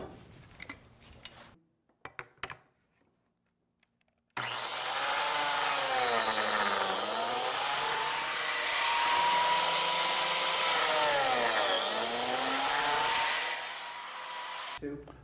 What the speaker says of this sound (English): I'm going to get ready to cut some biscuit slots